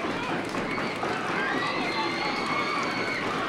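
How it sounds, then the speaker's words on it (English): Crowd at a 1976 Universal Wrestling Association match shouting and roaring for action, a dense, steady wall of noise filling the whole stretch. "The crowd's crying for action."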